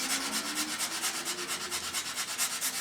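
Abrasive rubbing on a stiff stainless steel exhaust heat shield from a Triumph motorcycle, a fast, even back-and-forth scrubbing rhythm of roughly six strokes per second, close and moderately loud with no voices.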